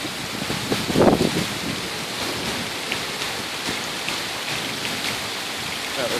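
Rain pours during a severe thunderstorm in Red Oak, Texas, with a constant broadband hiss and some wind buffeting the microphone, plus a brief louder rustle near the start.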